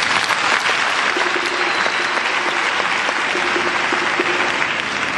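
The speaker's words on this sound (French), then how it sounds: "Je demande qu'on les applaudisse." Sustained applause from a large crowd, steady and dense clapping throughout with no break.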